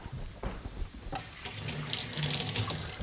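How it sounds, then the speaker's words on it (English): Hands are rinsed under a running tap at a home kitchen sink, a close, steady rush of water that grows fuller and splashier after the first second. "So what I like to do at this point is just go ahead and give yourself a quick little wash."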